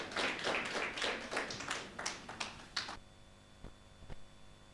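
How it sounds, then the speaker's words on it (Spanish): A church congregation at a prayer service claps for a choir, with a burst of loose, uneven handclaps for about three seconds that then stops, leaving near-silence broken by a couple of faint taps. "Si vamos a recibir al coro Nueva Alegría con un aplauso."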